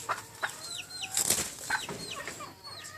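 A loose hen being carried back inside its coop flaps her wings in several rustling bursts, with faint clucks and a few chirps in between, close by.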